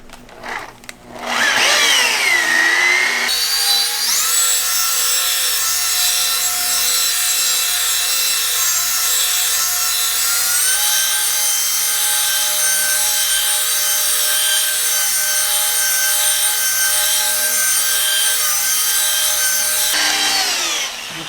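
A rotary polisher buffs car paint to remove a key scratch, whirring loudly and steadily for a long stretch, its high-pitched buzzing hum holding nearly constant before cutting off at the end.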